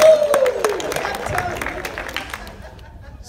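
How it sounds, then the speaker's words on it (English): An audience claps for a man and his horse in a dense burst of applause that thins out and fades over a few seconds, with chatter and a chuckle mixed in. "Give him and the horse a round of applause."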